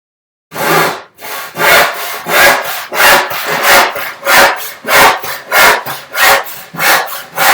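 Rhythmic back-and-forth strokes of a hand saw biting through a wooden board, about a dozen even strokes, loud and close.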